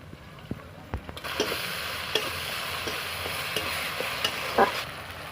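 Ginger and garlic paste hitting onions already fried in a pan, a sharp burst of sizzling that settles into a steady fry with scattered spatula scrapes and knocks.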